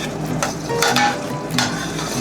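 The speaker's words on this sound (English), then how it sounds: "I'm just give it a stir. A really good stir." Apple pie filling sauce being stirred in a pot, with soft scraping strokes and a few light clinks of utensil on pot over a steady low bubbling hiss, close and uninterrupted.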